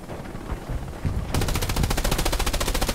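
Automatic gunfire in the video game Hell Let Loose, a rapid, steady burst of close machine-gun shots that grows louder and denser partway through, with no talking over it.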